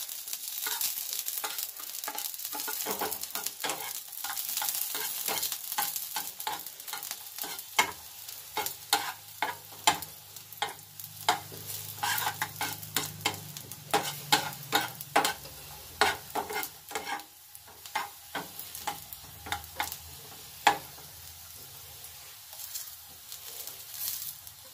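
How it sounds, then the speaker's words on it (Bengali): Chopped garlic frying in ghee, a steady crackling sizzle with frequent sharp pops and spatula scrapes, close and continuous, with a brief low hum partway through. "এরপর প্রথমে ঘিয়ের মধ্যে রসুনগুলিকে অল্প একটু ভেজে নেব।"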